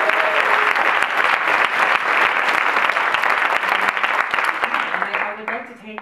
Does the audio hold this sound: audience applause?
yes